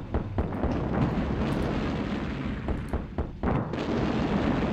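Artillery fire in the Sudden Strike war strategy game: dense, continuous booming blasts and rumbling explosions with sharp bursts, loud and sustained throughout with no talk.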